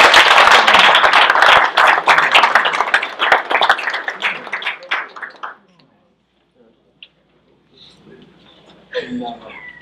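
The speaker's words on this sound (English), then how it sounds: "Let's give a round of applause." Clapping from a small audience at a city council regular meeting, a dense burst of handclaps that thins out and stops after about six seconds, followed by near silence and a few soft voices.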